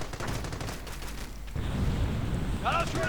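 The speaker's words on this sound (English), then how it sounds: "but of course a mortar will put a stop to that" A mortar round bursts amid gunfire in a World War II strategy game battle, with continuous low rumbling explosions and crackling fire through the first half, then a heavier sustained blast, a few brief tonal game cues near the end.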